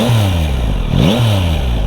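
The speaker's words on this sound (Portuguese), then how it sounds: "Vou colocar aqui a moto a roncar para vocês verem a sonoridade dela" A 2023 Yamaha MT-09 motorcycle engine revs up and drops back twice in quick succession, loud and close with a rough, throaty rumble.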